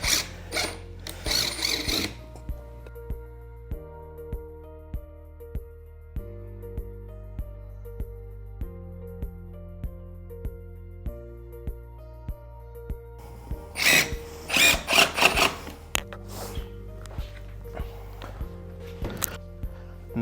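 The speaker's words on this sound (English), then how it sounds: "So again, just screwing these down." A power drill driving screws into loft platform boards: several short whirring bursts near the start and again later, with ratcheting clicks and a steady hum between them, heard up close.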